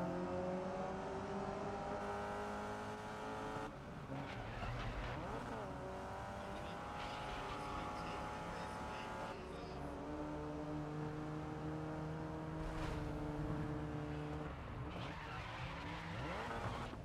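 Volkswagen Beetle racing in GRID Legends, engine droning and revving through gear changes with repeated tire squeals and skids on corners, loud and continuous for the whole stretch.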